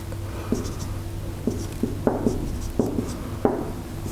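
Marker or pen writing on a board during a university engineering lecture, a series of short scratchy strokes and taps in irregular rhythm over a low steady room hum.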